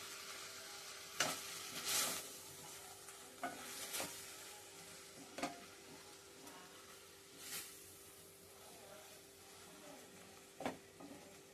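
Stuffed capsicum filling cooking in a pan over medium heat, with a faint low sizzle and occasional scraping stirs and clinks.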